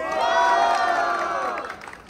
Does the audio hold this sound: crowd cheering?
yes